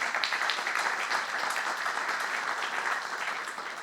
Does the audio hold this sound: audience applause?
yes